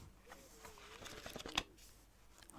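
Soft paper handling and pen writing on a coated card notepad: quiet, close scratching strokes and light rustles in an irregular rhythm, with one sharper tap near the middle.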